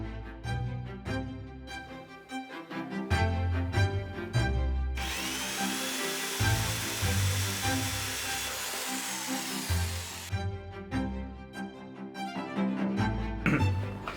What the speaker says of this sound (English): we're going to drill 6 holes into the guitar so that the pickup can come from underneath